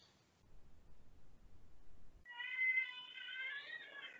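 A cat meows from a film soundtrack, a single drawn-out, wavering cry that rises and bends near the end, heard clearly after a stretch of low rumbling background.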